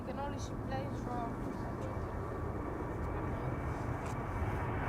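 A Boeing 737 bound for Lyon at Amsterdam Schiphol Airport produces a steady, broad jet roar that holds constant throughout, heard from the ground while people talk nearby.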